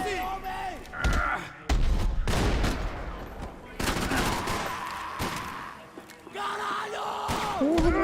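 Bursts of gunfire in the PC video game Max Payne 3, rapid automatic volleys and shots mixed with in-game shouting and yells, loud and dense with short pauses.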